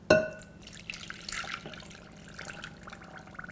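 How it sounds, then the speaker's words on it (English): Water poured into a sauce for a ham glaze in a home kitchen, opening with a sharp clink and then a soft, continuous trickling and splashing at moderate distance. "And then we have water that we're adding."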